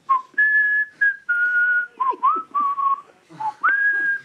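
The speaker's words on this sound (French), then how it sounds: "je voulais siffler quelques airs des chansons de Salvatore et Adamo" A man whistles a melody from a Salvatore Adamo song, clear and close, with sustained tones, pitch slides and short breaths between phrases, heard alone.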